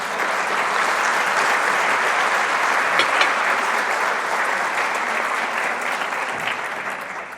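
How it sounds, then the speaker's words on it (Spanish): A church congregation applauding at a service, a dense, steady wash of many hands clapping together that holds at full loudness throughout and tapers only slightly at the very end. "Denle un aplauso al Señor por eso."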